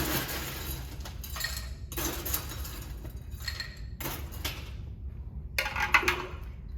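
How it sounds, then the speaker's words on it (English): Ice cubes clink and rattle into a cocktail glass while making a Seder drink, arriving in several short bursts of bright tinkling separated by brief pauses, close and fairly quiet. "We're going to fill our glass with ice."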